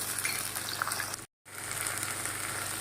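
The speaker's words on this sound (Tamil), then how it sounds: "பச்சை மிளகா வதங்கும் போது கொஞ்சோண்டு சின்ன வெங்காயம் சேர்த்து வதக்குவோம்" Green chillies and small shallots sauté in hot oil for a spicy mint-coriander chutney, giving a steady, dense sizzle that cuts out briefly midway before resuming.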